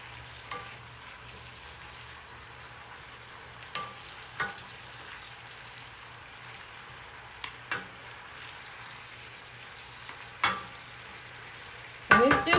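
Sizzling frying in a hot pan with chicken, shrimp, thin spaghetti and zucchini, as pasta is tossed in and stirred, giving a steady hiss broken by scattered scrapes and clinks, louder toward the end.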